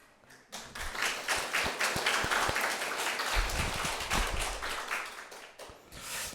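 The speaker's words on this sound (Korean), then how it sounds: "하나님 앞에 영광의 박수 드리시죠" A congregation at a Korean Sunday church service claps together in a loud, sustained round of applause that swells quickly and holds for several seconds, with a few dull thumps mixed in before it fades.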